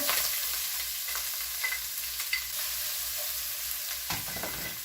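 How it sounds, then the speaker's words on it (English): Garlic and onions frying in butter and olive oil in a very hot pan give a loud, constant sizzle and hiss. A few soft stirring clicks sound near the end, and nobody talks. "I'm going to throw my garlic and onions in here."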